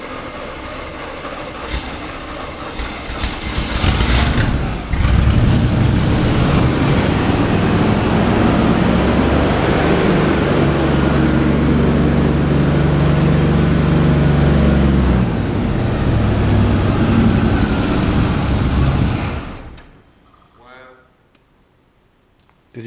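A 1981 Chevy Scottsdale K10 pickup cranks, catches with the choke on and runs loud and rough close by for about fifteen seconds before the throttle is released and the engine drops away. People talk over it.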